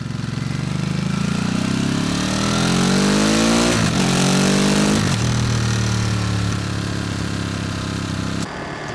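A 2023 Ducati Monster+ naked motorcycle engine under riding load, loud and steady, rising through revs, briefly dipping around gear changes, then continuing at a constant drone.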